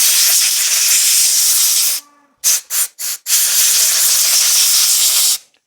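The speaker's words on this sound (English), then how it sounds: "when you are blowing out with the compressor, it's good to wear eye protection" Compressed air blasting out a chainsaw's air filter, a loud close hiss that runs steadily, breaks into three short bursts, then resumes as one long blast before cutting off.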